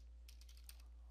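Computer keyboard keys are tapped in quick light bursts, several clicks in a short run, very faint over a steady low electrical hum.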